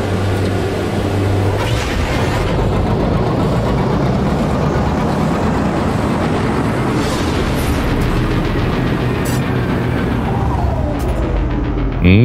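A spaceship's pulse engine drives a flight in No Man's Sky, a loud, continuous rushing engine roar with a deep hum, sustained steadily throughout.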